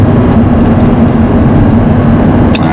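An Audi R8 engine drones steadily and loudly from inside the car while driving, with a continuous low hum and no distinct shift break evident.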